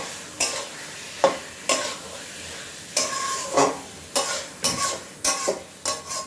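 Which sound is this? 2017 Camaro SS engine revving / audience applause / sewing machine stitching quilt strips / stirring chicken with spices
stirring chicken with spices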